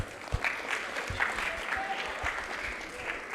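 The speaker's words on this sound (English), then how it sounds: "Please clap for her." A school audience at Ashford Academy's reading week awards claps steadily, a dense sustained patter of many hands that holds at an even level throughout, with faint crowd murmur beneath.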